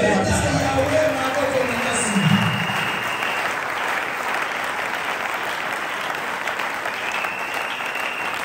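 A church congregation claps together during a sermon, a loud dense burst of applause that slowly thins out, with a voice speaking over it.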